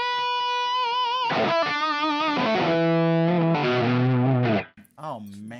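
An electric guitar played through a Tone Bender fuzz pedal set to light drive. Sustained, wavering distorted notes and chords ring out loud and up close, then cut off abruptly, and a voice follows.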